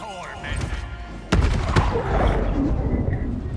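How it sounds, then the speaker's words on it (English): A magic missile spell is cast in the video game Baldur's Gate 3, a sudden sharp impact boom followed by rumbling, crackling energy bursts over game music, with someone talking beforehand. "let's fire off a level 2 magic missile"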